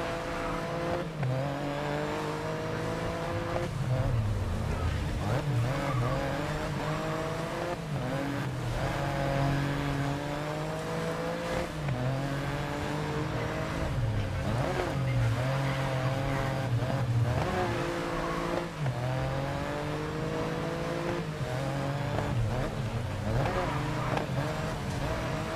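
Race cars roar around a wet track in the GRID Legends video game, with engines revving and shifting steadily throughout and occasional tire squeal, all loud and continuous.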